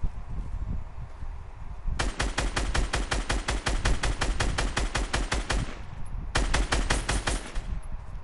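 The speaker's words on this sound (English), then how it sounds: "I'm gonna shoot down the tree because it's gonna take too long to break it" Rapid automatic gunfire rattles in a video game as a player shoots down a tree: one long sustained burst of closely spaced shots, a brief pause, then a second shorter burst, loud and close.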